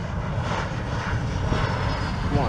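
An airliner's engines roar steadily overhead during a fast landing approach, a close, loud sustained whine and rumble with no break across the few seconds.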